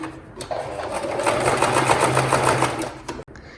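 A sewing machine stitches elastic onto a sharara in one rapid, continuous run, loud and close, ending with a short click as it stops.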